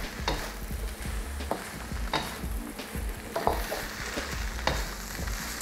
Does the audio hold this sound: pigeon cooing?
no